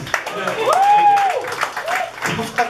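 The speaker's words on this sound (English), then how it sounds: "Fucking people clapping." A comedy club audience in Toronto claps and whoops, with a rising cheer cutting through the patter of hands and voices mixed in throughout.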